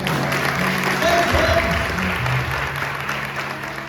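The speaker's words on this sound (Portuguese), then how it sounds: "pode aplaudir, é legal mesmo" A church congregation applauds a preacher during a sermon, a steady wash of clapping that swells around the middle and then slowly thins, with some murmuring voices mixed in.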